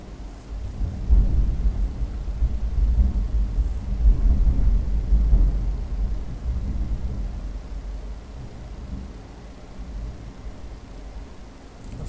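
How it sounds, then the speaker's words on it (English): Deep rolling thunder from a thunderstorm outside rumbles loudly for several seconds with faint rain beneath, then slowly fades to a low, distant murmur. "there is a thunderstorm in outside"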